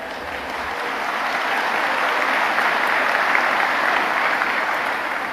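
Sustained applause from a large crowd at a Nahdlatul Ulama anniversary gathering, a dense, even wash of clapping that swells slightly and holds throughout.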